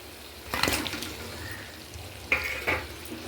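Pieces of fish slid into hot spiced oil for doi katla, a yogurt-based fish curry, set off sudden bursts of sizzling and splattering, first one loud burst and then two more later, over a low background hiss.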